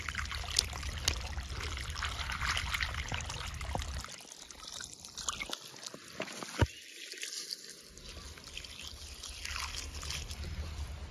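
Water is poured over leafy greens while they are washed, giving an uneven, close splashing and trickling with a few brief quieter gaps and sharper drips, and no talk.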